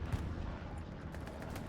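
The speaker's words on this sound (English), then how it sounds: "Here's explosions going on down here in the south." Dense rumbling explosions and crackling gunfire fill a World War II video game battle at Carentan, a continuous low roar with a sharp blast near the start, moderately faint and without voices.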